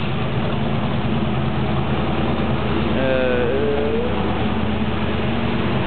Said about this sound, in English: as you can see, the car is running now